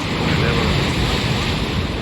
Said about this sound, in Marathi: पाणी जोरात येत आहे आणि या दगडांवर आदळत आहे